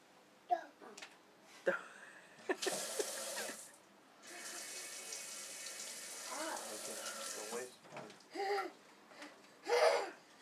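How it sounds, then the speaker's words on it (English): Water runs from a household tap into a sink in a steady hiss lasting several seconds, while young children chatter and squeal in short bursts before and after. "Parker, show Gavin how the water turns on."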